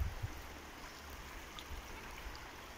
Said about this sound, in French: nous voici sur l'Allier, rivière sauvage de Haute-Loire